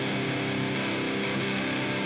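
A distorted, left-panned guitar in a track plays a repeating pattern as a thick, continuous wall of sound, heard alone for a couple of seconds.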